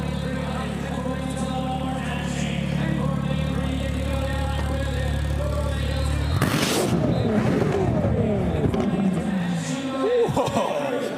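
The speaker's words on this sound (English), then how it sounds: "Ask the driver to give it a little rev." A 2015 Ferrari LaFerrari at a Barrett-Jackson Scottsdale auction: a steady loud engine drone under the crowd's murmur, then a sharp rev flare midway that sweeps up and falls back, with spoken voices mixed throughout.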